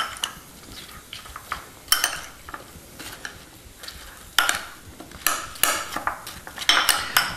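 Apples are tossed in butterscotch in a pot, with irregular metallic clinks and scrapes of a utensil against cookware, some sharper knocks standing out near the end.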